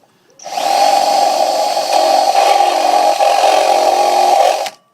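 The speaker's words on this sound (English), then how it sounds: "Now I'm actually holding the drill and pushing the tin onto it" A power drill whirs continuously at high speed for several seconds, loud and close, starting and stopping abruptly, while a tin is pushed onto it in making a wood gas stove.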